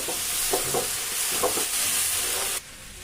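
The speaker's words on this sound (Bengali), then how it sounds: "এই সুন্দর ভালো করে মিক্স করে নেওয়া হচ্ছে।" Rice being stirred and mixed in a hot pan, a spatula scraping through it in several soft strokes over a steady sizzle, close and alone until the sizzling drops away near the end.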